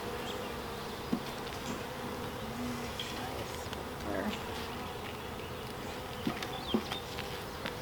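Honey bees hum in a continuous dense drone around an open hive during an inspection of a new colony's frames, steady and close throughout with a few faint clicks of handling.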